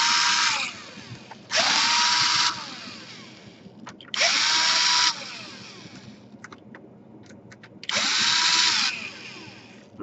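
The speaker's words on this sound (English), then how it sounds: "So everything you see, all the screws you see, you have to unscrew them." A power screwdriver backs screws out of the bottom panel of a Lenovo G560/G550 laptop in four loud, whirring bursts of about a second each, with quieter handling and small clicks between them.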